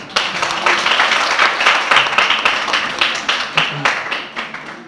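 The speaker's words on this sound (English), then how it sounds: "Mr. Tego, with a round of applause, please." A round of applause for Mr. Tego at an HIV/AIDS status campaign at Ankaful Psychiatric Nursing Training College: a crowd claps steadily, with sharp individual claps standing out and some voices mixed in.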